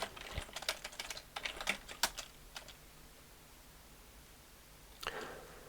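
Keys clatter on a computer keyboard as terminal commands are entered to download and run a script, a quick burst of close, crisp clicks for about three seconds, then a pause and a short final keystroke cluster.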